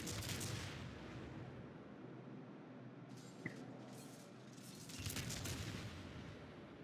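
Rapid-fire naval guns from a Des Moines heavy cruiser in World of Warships shoot at distant destroyers, producing a dense, sustained rumble of overlapping gunfire with brief louder volleys and a sharp report midway.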